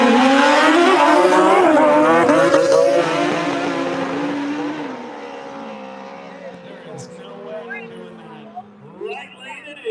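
Two Suzuki Hayabusa motorcycles on nitrous launch together with a loud, rising high-pitched engine howl that fades as they race away down the drag strip, while an announcer talks over the run.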